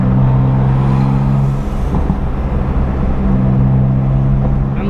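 A BMW F82 M4 with a burble tune cruises in third gear at about 2,500 RPM, a steady loud low exhaust drone with constant engine hum and road rumble throughout, a slight dip midway.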